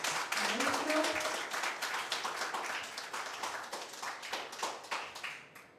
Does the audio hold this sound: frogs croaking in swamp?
no